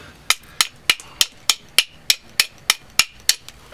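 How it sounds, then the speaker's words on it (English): Steady metal hammer blows knocking out the copper winding of an old scrapped electric motor, about a dozen sharp, evenly spaced strikes close up, each with a short ringing decay, no voices. "Anyway, you hammer it out."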